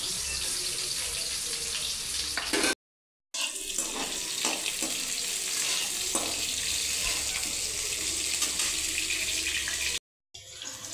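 Chopped onion, a generous amount for butter chicken gravy, fries in a pan with a steady, loud broadband sizzle and a few soft stirring knocks. The sound drops out briefly twice.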